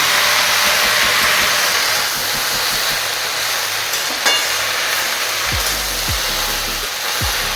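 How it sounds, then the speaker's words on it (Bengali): Leafy greens frying and being stirred in a pan, a steady loud hiss of sizzling steam with a few soft scraping strokes near the end. "তারপরে আমি নাড়াচাড়া করতে লাগলাম।"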